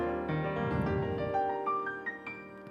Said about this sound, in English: So this is the grand piano.